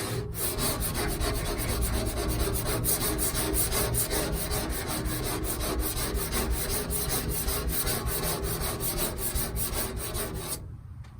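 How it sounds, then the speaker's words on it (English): A hand scraper rasps steadily across hard water stains on a surface, a loud, continuous gritty scraping that runs without pause for about ten seconds before stopping abruptly. "So next I thought, let's scrape this thing. I've got a couple of scrapers."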